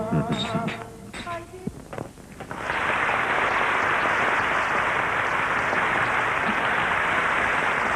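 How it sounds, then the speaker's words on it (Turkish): An audience breaks into sustained applause after a stage performance, the dense clapping starting abruptly after a few brief voices and sounds and then continuing loudly and steadily to the end. "Bakın alkışlar hala devam ediyor."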